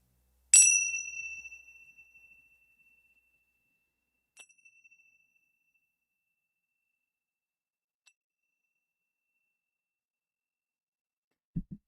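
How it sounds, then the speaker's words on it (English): Small bells struck during a tarot reading: one bright ringing strike that decays over a couple of seconds, followed by a fainter second ring and a tiny tick later, in an otherwise quiet room. "why does she keep ringing the damn bells?"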